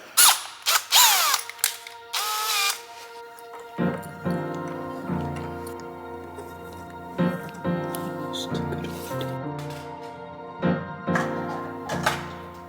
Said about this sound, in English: So I have to drill this hole on the new shaft.